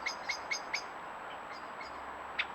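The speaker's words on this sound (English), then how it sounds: "the air fills with the sounds of birds calling." Birds call in a wild outdoor setting, a series of short, bright chirps repeating roughly every quarter second at first, then sparser calls, moderately near over a steady background hiss.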